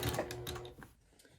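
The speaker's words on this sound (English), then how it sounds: "We're going to go ahead and take our binding, fold it over, and sew." A sewing machine stitching fold-over binding on a quilt, a short close whirring run of rapid needle strokes that trails off after about a second.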